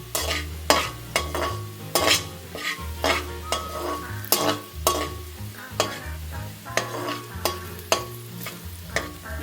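Onions fry and brown in oil for prawn fried rice as a utensil scrapes through the pan in quick, rhythmic stirring strokes over a loud, close sizzle, with no voices.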